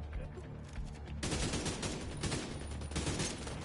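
AK rifle in The Division 2 firing a rapid, loud full-auto burst that starts abruptly after a quieter moment and rattles on to the end, close and sharp.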